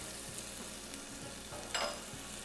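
Chopped spicy peppers hit hot oil in a pan for a vodka rigatoni sauce, giving a soft, continuous sizzle with a brief brighter crackle burst partway through, no voices.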